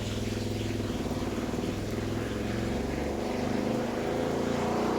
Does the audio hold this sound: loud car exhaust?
yes